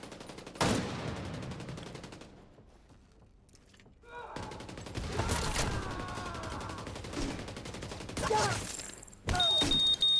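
Video game gunfire, sharp loud bursts that fall away into a quiet stretch, then return as rapid volleys with thumps near the end, while a voice talks over the action.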